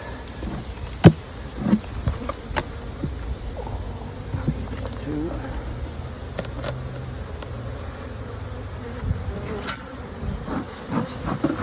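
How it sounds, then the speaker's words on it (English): Honey bees crowd across the top of a hive during an inspection, a steady low insect hum running throughout beneath nearby talk, with a few sharp clicks and knocks of hive frames. "Full of bees right across the top."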